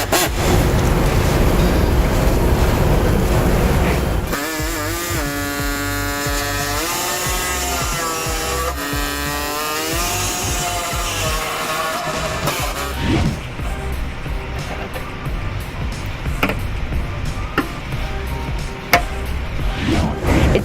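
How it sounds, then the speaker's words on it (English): A pneumatic air saw cuts into the steel frame of a 2015 Chevy Cruze to enlarge holes for a trailer hitch, buzzing loud and close with shifting pitch as it bites and bogs, then continuing rougher toward the end. "So I'm going to use a air saw to go ahead and enlarge the holes that we need to on the Chevy Cruze."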